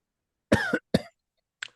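Two close, sharp coughs in quick succession, then a brief faint third cough after a pause, with silence in between.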